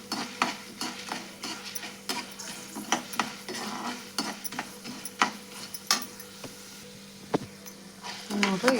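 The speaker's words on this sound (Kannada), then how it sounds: "ಸ್ವಲ್ಪ ಕೆಂಪಾಗಂಗೆ ಹುರಿಬೇಕು ನೋಡ್ರಿ" Ingredients roasting in hot oil in a pan for a coconut chutney, a soft continuous sizzle broken by repeated scraping and clinking strokes of a stirring spoon against the pan at a quick, uneven rhythm.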